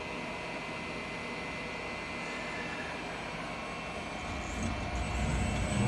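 The spindle of a Syil X7 CNC mill with a Siemens 808D control hums and whines steadily while it jogs down with no tool fitted, the drone growing slightly louder toward the end.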